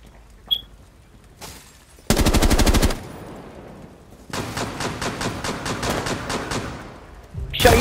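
Gunfire in the video game Rainbow Six Siege, with bursts of rapid repeated shots, one short loud volley followed by a longer, slightly quieter string of shots, plus a few isolated game effects.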